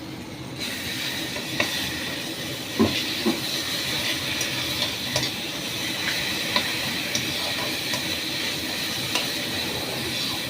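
Coconut mutton curry is stirred in a pan: a steady, moderate sizzling hiss with occasional light scrapes and clinks of the spoon, close by.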